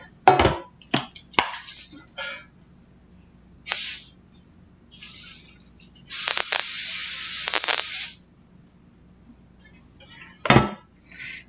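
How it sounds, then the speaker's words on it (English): Cooking spray hisses onto a loaf pan for banana bread in short bursts and one longer two-second spray, with small clicks and handling clatter between the sprays in a quiet kitchen. "Take your loaf pan and spray it down so your banana bread does not stick."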